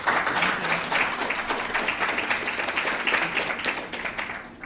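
Steady audience applause fills a summit hall welcoming a Nigerian speaker at an Africa youth-innovation event, a dense continuous patter of many hands at moderate loudness, tapering slightly at the end.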